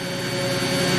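Mori Seiki GV-503 five-axis CNC vertical machining center from 2003, its spindle spinning at 8,500 RPM: a loud, steady high whine with strong tonal lines over broad machine noise, building slightly through the short moment.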